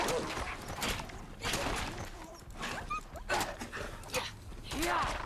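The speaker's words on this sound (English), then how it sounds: "Oh, he's a French bulldog." A French bulldog in the video game Fallout London yips and whimpers in short bursts over layered game sounds, with people talking over it throughout.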